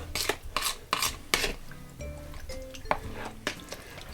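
A utensil scrapes and clacks against a pan while sesame sticky chicken wings are stirred in their sauce, giving a series of close, uneven knocks and soft wet sizzling.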